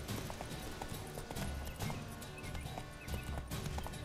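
Horse galloping during combat in the video game The Witcher 3: Wild Hunt, rhythmic hoofbeats pounding close and loud with bursts of impacts and game noise layered over them.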